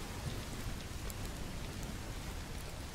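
Steady rain falls in the medieval survival game Bellwright, a continuous dense patter with a low rumbling undertone throughout, alone with no voices.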